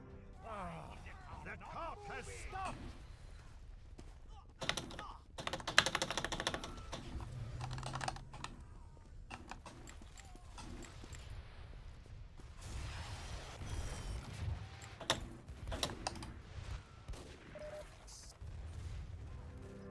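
A new Razer mechanical keyboard clatters in fast, irregular bursts of clicky keystrokes during a Team Fortress 2 match, mixed with muffled game sounds and occasional louder knocks.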